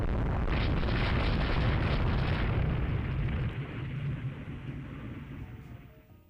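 Torpedo explosions in the naval strategy game Rule The Waves 3 roar as a dense, sustained blast with a rumbling low end, then slowly fade out over several seconds with no voices.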